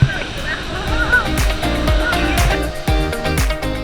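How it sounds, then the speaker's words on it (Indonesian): A waterfall pours steadily behind swimmers at a river in Sumbawa, a continuous rushing wash with splashes close by, while people talk over it. "Pemandangan kita di belakang ada air terjun."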